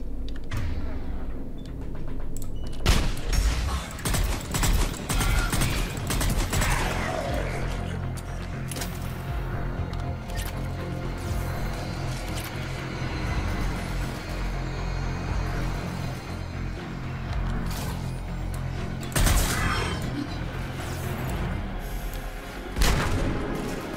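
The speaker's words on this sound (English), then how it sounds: "Shotguns in this game." Shotgun fire in the sci-fi shooter Mass Effect 3 Legendary Edition, repeated heavy blasts and booms scattered through continuous combat noise, mechanical clanks and creaks, loud and close, with no talk.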